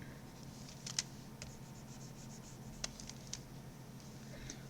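Pencil drawing a line on paper for a fantasy illustration, soft faint scratchy strokes with a few sharper ticks scattered across a quiet room hum, close by and with no talk.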